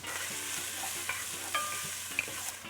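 Chopped onion with a pinch of salt frying in a pan for turkey and vegetable chili, a steady soft sizzle with light stirring scrapes, fairly quiet and close, no voices.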